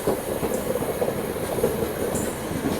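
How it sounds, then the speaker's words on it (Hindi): The 22413 Goa Rajdhani Express rolls slowly along the rails with a steady rumble and soft rhythmic wheel clatter, close by and continuous, with no voices. "यहाँ आके स्लो डाउन हो गई है गाड़ी भी।"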